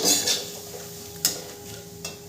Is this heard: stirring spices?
yes